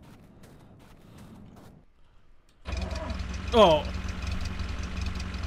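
A bus engine starts up in The Long Drive video game, a sudden loud mechanical roar that settles into a steady low idle after a quiet stretch, with a short creaky rising whine and a brief spoken exclamation over it.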